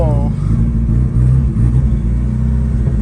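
Loud, sustained engine roar from an 850 whp K24-swapped Porsche 911, heard from inside during a hard ride along, with steady low rumble and a brief rising rev at the start.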